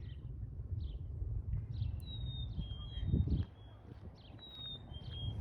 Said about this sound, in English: It sounds like the bird is calling for a dog.